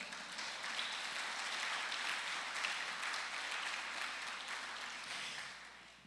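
A church congregation at a Portuguese-language service claps together in a soft, sustained wash of applause that swells and then tapers off toward the end, heard at a distance.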